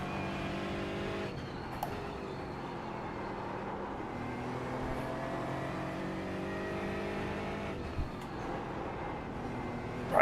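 GT3 race cars in the iRacing sim at the Nürburgring Nordschleife, a steady loud engine drone with shifting pitch as cars close in and pass, holding for the whole stretch, with brief sharp clicks near the start and end.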